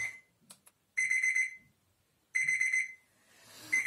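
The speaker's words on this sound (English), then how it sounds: "the alarm is gonna wake me up." A mirror-finish LED display alarm clock rings in two short bursts of rapid electronic beeping, loud and close, separated by a pause, with a third burst starting at the end.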